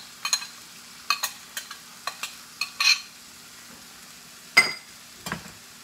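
Spinach and beef stir-fried in a pan, heard as a series of short scraping stirs and clinks over a faint sizzle, close and fairly quiet with pauses between strokes.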